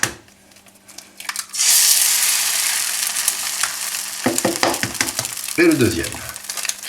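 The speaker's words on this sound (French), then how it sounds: "on va faire frire les œufs, hein, un œuf par personne" Eggs sizzle and fry in a hot pan, one egg per person, a loud steady crackle that starts after a pause, with a cracking and dropping of a second egg and a brief spoken remark.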